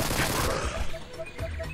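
Enemies firing in the video game Livalink, a dense, continuous burst of gunfire with rapid overlapping shots crackling loudly throughout, with no voice over it.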